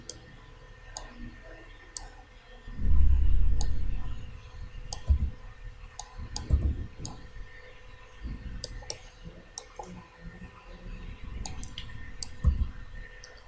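Close, sharp computer mouse clicks come singly and in quick pairs at irregular intervals, with soft low thumps and handling noise in the background.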